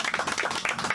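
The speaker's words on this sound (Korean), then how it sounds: "박수 한번 보내주세요" Audience at an outdoor plaza gathering during a solidarity hunger strike claps together, a steady ripple of applause filling the brief moment with no speech over it.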